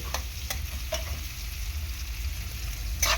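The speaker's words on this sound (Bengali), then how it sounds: "ভালো করে প্রথমে আমি পেঁয়াজটা আগে ভেজে নেব।" Onions fry in oil over a medium-high gas flame for Bhola fish tel jhal with a dried red chilli, a soft continuous sizzle over a low hum, punctuated by a few sharp stirring clicks.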